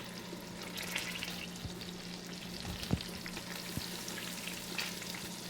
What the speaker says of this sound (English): I'm going to add my gorgonzola into the warm butter